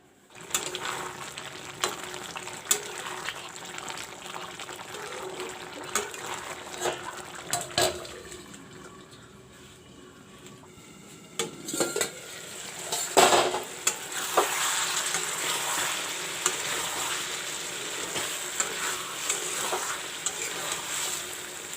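Okra and potato curry with chopped tomatoes and coriander leaves cooks in a covered pan, giving a steady soft sizzle with occasional clinks and stirring noises throughout. No one speaks.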